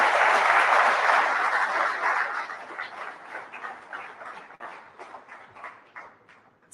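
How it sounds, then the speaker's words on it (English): A summit audience applauds the Prime Minister, starting as dense, loud clapping that thins into scattered individual claps as it fades out. "Please give him a round of applause"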